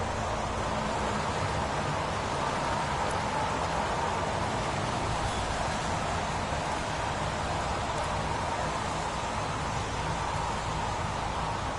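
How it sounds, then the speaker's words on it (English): Heavy rain pours steadily in the game Heavy Rain, a constant dense hiss of rainfall with no voices, even and moderately quiet throughout. "Goddamn rain. Hasn't stopped pouring since I arrived."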